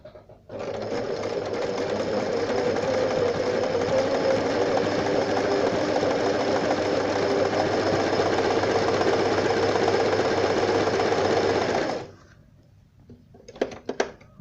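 Elna Simple 113 sewing machine stitching a seam in one steady, loud continuous run of about eleven seconds, close up, then stopping, followed by a few small clicks.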